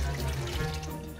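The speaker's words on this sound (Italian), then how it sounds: "magari con l'acqua corrente" Tap water running steadily into a sink while a butter knife is rinsed, a continuous close splashing hiss with no talk.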